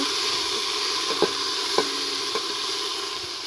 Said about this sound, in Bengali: আদা রসুনটা ভালো করে একটু নেড়ে চেড়ে নেব।